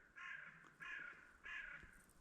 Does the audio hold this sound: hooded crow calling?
yes